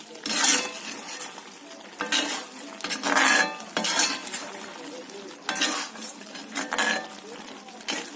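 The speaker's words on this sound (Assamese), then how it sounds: "চেনিখিনি যেতিয়ালৈকে গোটেইখিনি ইয়াতে মিহলি হৈ নাযায় তেতিয়ালৈ লৰাই থাকিব" A utensil stirring sugar into khurma, a fried sweet snack, in a pan, giving repeated scraping and clinking strokes in short bursts, close and moderately loud with brief gaps between them.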